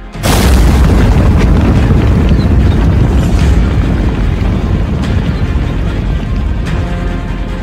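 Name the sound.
long-range missile explosion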